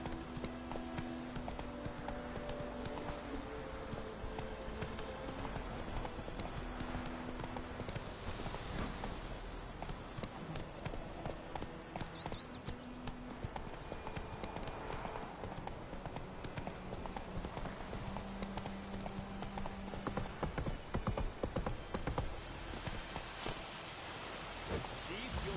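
The horse Roach gallops in The Witcher: Wild Hunt, a steady rapid clip-clop of hooves running throughout under a dense game soundscape, with brief voice sounds mixed in.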